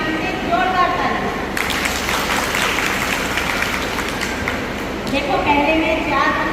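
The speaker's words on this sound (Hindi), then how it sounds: "रेणु जी के नाम से जोरदार तालियां।" Loud, sustained applause from a crowd at an Indian women's association gathering, honoring a woman named Renu; the dense clapping swells in the middle and fades as a voice resumes over its tail.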